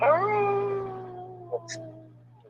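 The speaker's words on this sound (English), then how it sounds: "Can you hear the wolf?" A single long howl like a wolf's, loud and close, slowly falling in pitch and fading over about two seconds above a steady low hum, with a couple of faint clicks near the end.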